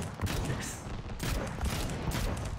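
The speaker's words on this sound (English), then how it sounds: "Look at the cannons." Cannons on a player-built craft in the Trailmakers video game fire in quick sequential order, a dense, loud run of blasts that rolls on without a break.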